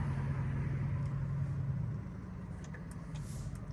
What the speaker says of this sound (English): Car, that's a beautiful car, man. RSQ8.